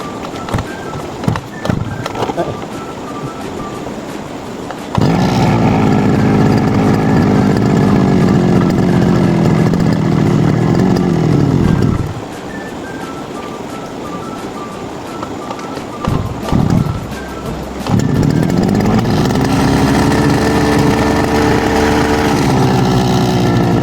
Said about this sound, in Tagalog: Ready na po ako mag-grass cutter. Papainit lang tayo.